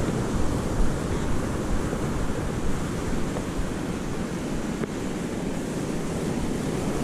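Sea waves roll onto Timezguida beach near Ouftas in a steady, dense wash of surf that never lets up, with wind buffeting the microphone throughout.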